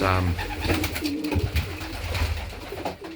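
Pigeons in a breeding loft coo nearby in low, throaty, repeated calls over a busy background of wing flutters and shuffling, with a person talking at times.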